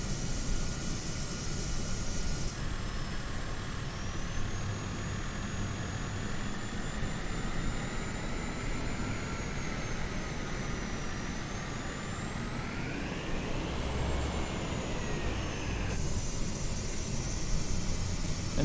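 Black Square Analog Caravan turboprop in a flight simulator spools up for takeoff, a steady whining drone that rises and bends in pitch over a broad rushing roar, moderately loud and continuous with no speech.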